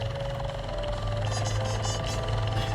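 A steady, droning whir of helicopter-style rotors on a drone in the Roblox video game, a constant buzzing hum with a low rhythmic throb, loud and continuous with no voices.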